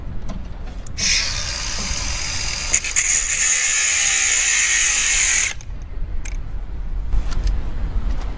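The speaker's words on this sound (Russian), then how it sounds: "Болгарка включается." A Makita DGA511 cordless angle grinder switches on and whines at high speed through a cut for several seconds, then spins down; loud and close, with clicks and handling noise before and after and no talk.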